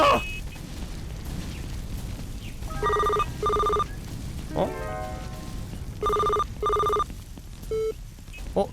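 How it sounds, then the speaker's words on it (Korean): An in-game telephone rings in two double-burst pairs of electronic trills, moderately loud and clear over a low background hum, with a few other short game tones between them. "전화를 못 받네? Q를 누르면은 전화를 끊습니다야?"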